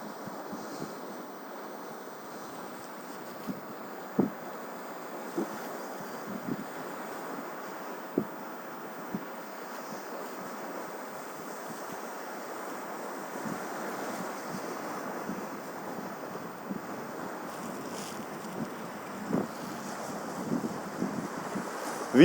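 A strong storm wind roars over sea surf on a beach at Vityazevo, a steady broadband rush of wind and breaking waves with gust buffeting on the microphone and occasional sharp knocks, no voices.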